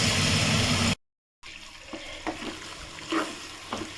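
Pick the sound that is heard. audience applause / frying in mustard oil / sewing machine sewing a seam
frying in mustard oil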